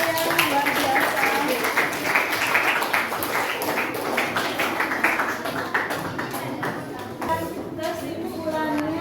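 A class of students applauding a classmate, steady scattered clapping from many hands lasting several seconds, fairly close and moderately loud, thinning toward the end.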